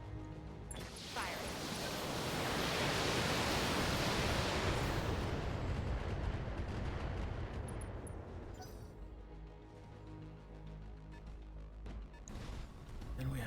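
PPC weapons fire from mechs in BattleTech, a long roaring discharge that swells loud over several seconds and then rumbles down, followed by fainter mechanical clanks near the end.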